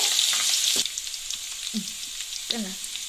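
Banana stem pickle sizzling in a pan, a loud hiss that drops after the first second, with a few spoon scrapes and short squeaky strokes as it is stirred close by.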